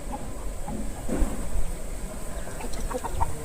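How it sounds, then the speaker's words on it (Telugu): Chickens cluck near a rice mill on farmland, with short soft calls scattered over steady background noise at moderate distance and no talk. "బాగున్నాయి కోళ్ళు కూడా ఉన్నాయి, కోళ్ళు కూడా కొనుక్కోవచ్చు."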